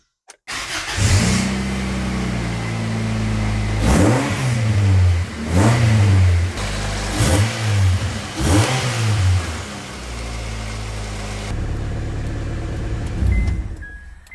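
A car fitted with new race headers starts up, then revs sharply four times in a row with loud rising and falling sweeps, before settling back to a steady idle.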